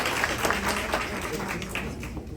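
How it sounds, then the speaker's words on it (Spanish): Audience at a lecture on neurodevelopmental disorders and complex trauma applauding, a short, fairly dense burst of clapping that carries on steadily throughout. "Démosle un fuerte aplauso."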